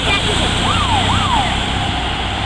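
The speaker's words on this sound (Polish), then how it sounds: "jeszcze ostatni wóz strażacki" A fire engine's wailing siren, the last vehicle in a military vehicle column procession in Poland, rises and falls in two clear sweeps over a steady roar of traffic and crowd noise, loud and close.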